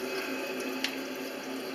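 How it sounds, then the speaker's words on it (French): Tap water runs at full pressure from a faucet into a bathroom sink being unclogged, a steady loud rushing hiss with a brief splash partway through. "Vous demandez à l'autre personne d'ouvrir le robinet à fond"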